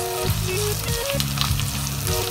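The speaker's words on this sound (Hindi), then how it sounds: "ये देखिए हमारी सब्जी को भूनते हुए" Bitter gourd frying in a pan for sweet karela, a loud, dense, close sizzle running steadily throughout, with a faint tonal hum underneath and no talking.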